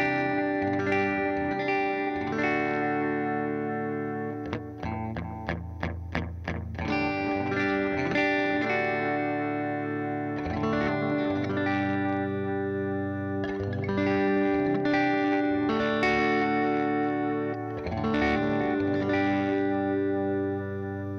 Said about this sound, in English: Now we get into more of like an overdriven sound